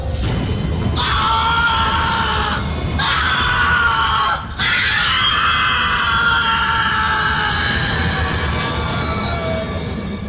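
A man screams in long, loud, drawn-out cries of pain, close by, with only brief breaths between them.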